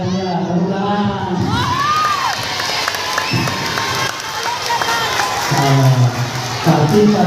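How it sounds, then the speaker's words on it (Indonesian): Crowd clapping and cheering with children shouting at the closing of a Ramadan pesantren program, mixed with voices and some musical tones, loud and busy throughout. "tepuk tangan"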